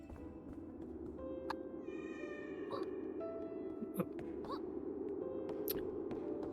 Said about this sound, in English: the cat kind of yowls and runs forward to the next section